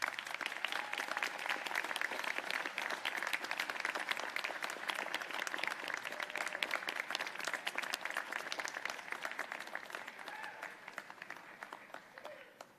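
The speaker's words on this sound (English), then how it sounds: "applause." A crowd at a university graduation ceremony claps for the graduates, a sustained, moderately distant round of applause that holds steady and then tapers off toward the end.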